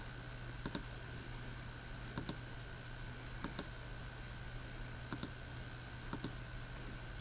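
Sharp, quiet clicks of a computer mouse come at irregular intervals, about six over several seconds, each brief and isolated against a steady low electrical hum, with no talking.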